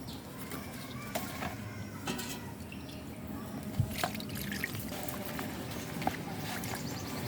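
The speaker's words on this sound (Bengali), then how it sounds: "চেঁচে নিয়ে কচু পাতাগুলোকে একটু পরিষ্কার জল দিয়ে ধুয়ে নেব" Taro leaves being rinsed in clean water give a steady wet, low rumble with scattered small drips and splashes, moderately close and continuous throughout, with no voices.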